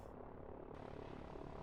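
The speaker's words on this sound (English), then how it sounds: "they're sending their helicopters up over this way" Helicopters fly across the map in the Line War strategy game, a steady engine and rotor drone held at an even level throughout, fairly quiet and without talk.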